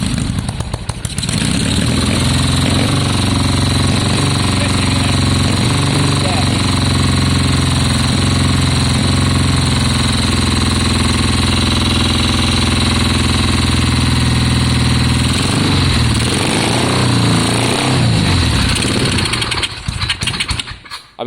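A 50-year-old Triumph Bonneville T120 motorcycle engine runs loud and close, a steady rough idle with a dense mechanical clatter, holding throughout before cutting off near the end.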